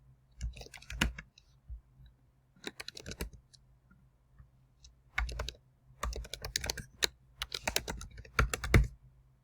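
Clicks of a computer keyboard as a contact's details are typed in, coming in short bursts of close, crisp keystrokes separated by brief pauses, with no talking.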